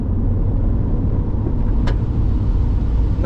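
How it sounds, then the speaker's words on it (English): A 1994 Porsche 968 four-cylinder engine pulls under acceleration, a steady loud low rumble from inside the car with no clear rev sweep and a brief higher blip near the end. "See what this little 4-cylinder holds for us. Give her a little power."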